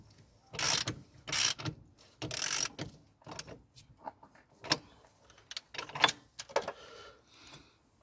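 Mechanical ratcheting and metallic clicking from a wrench snugging a bolt on a Rover 45 rear drum brake, in several short bursts close up, with lighter tool clinks between them and no talk.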